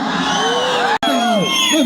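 A crowd at a live music event cheers and whoops loudly and close by, with voices shouting, briefly cut off midway before the cheering resumes.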